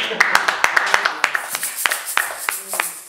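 A church congregation claps in acclamation, a brisk, steady rhythm of sharp hand claps close by, with voices speaking over the clapping.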